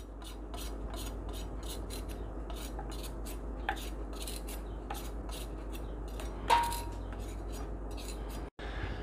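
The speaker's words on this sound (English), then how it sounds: "I'm shaving the carrot right now" Rhythmic scraping strokes of a peeler shaving a carrot repeat quickly and evenly at close range, with a light clink partway through.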